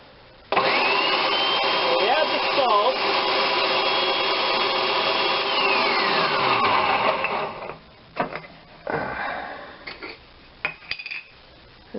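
A food processor whirs loudly and steadily for several seconds while blending hollandaise sauce, its motor pitch shifting as it runs, then stops, followed by clinks and handling sounds of kitchen work.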